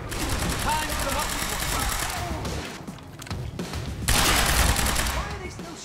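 Enemy automatic gunfire in Quantum Break, steady rapid shots running under voices, with a brief lull midway before a louder, closer burst resumes.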